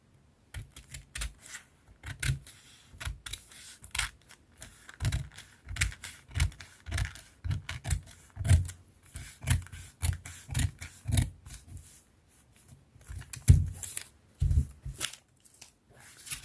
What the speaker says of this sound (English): So I'll go ahead and place this on my fabric and cut it out.